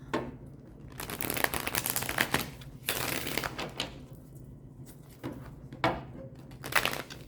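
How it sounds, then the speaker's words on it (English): Cards from a deck being shuffled in repeated bursts of riffling and rustling, close and fairly quiet, with brief pauses between passes and no talking. "Let me shuffle these cards."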